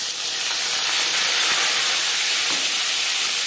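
Ginger paste hitting hot oil in a kadai already fried with five-spice for a vegetarian potato and cauliflower curry, giving a steady, loud, broadband sizzle and hiss that holds evenly for the whole stretch with no talk.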